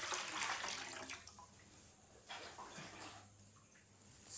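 Two litres of water poured to dissolve SLS for homemade multipurpose liquid soap, a splashing, gushing pour that swells and ebbs in bursts, close and moderately loud with no talk.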